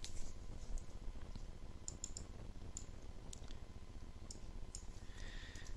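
Light, scattered clicks of a computer keyboard as measurements are typed in, faint and close against a quiet background with no talking.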